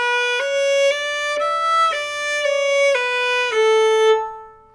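Fingers press down on violin strings to change their length as the strings are bowed, giving a series of about eight distinct sustained notes in a stepwise run. The playing is close and clear, ending on a longer held note, with no talk.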